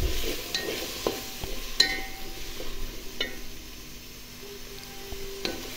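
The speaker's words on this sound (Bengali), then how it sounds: "তো এটা এখন ভালো করে কষিয়ে নিব আমি।" Masala for a pasta dish, with turmeric added, is stirred and fried in a pan, producing a soft, fairly faint sizzle with sparse spatula taps and scrapes close by, no talking.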